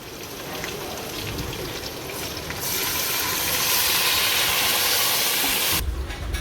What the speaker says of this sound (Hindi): ये अब हमारी यखनी पानी उबलने लग गया हुआ है।